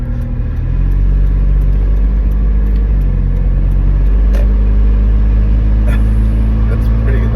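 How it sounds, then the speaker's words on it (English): A 2012 Toyota 4Runner engine idles with an exhaust leak, giving a steady, loud low rumble close by with a few faint clicks on top. "believe I have an exhaust leak"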